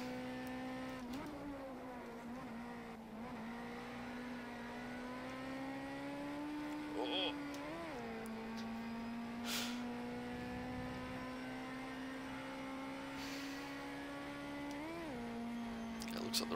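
A race car engine in a sim racing game at Donington, in the rain, drones at a steady high pitch with brief dips and rises for gear changes, quiet and continuous, with a voice talking over it.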